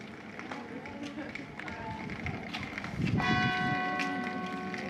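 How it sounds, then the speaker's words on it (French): Church bells ring out in welcome, entering partway through and ringing on over crowd noise, footsteps and people talking nearby. "Avec les cloches pour la bienvenue."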